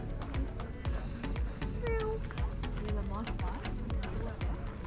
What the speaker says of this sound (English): Oh, the kitty got the bird.